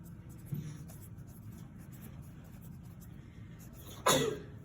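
A single sharp sneeze bursts out near the end, loud and close, after a few seconds of quiet scratching like a pen on paper.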